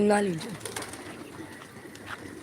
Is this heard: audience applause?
no